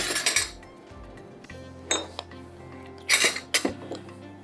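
Oatmeal ingredients mixed in a bowl, with irregular clinks and scrapes of a spoon against the bowl in short close bursts separated by quiet pauses.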